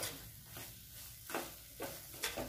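Spoon stirring a thick lauki barfi mixture of bottle gourd with cardamom powder and dry fruit, giving soft scraping sweeps with a few brighter scrapes against the pan near the end, close and fairly quiet.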